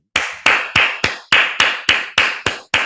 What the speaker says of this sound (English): I'm clapping for him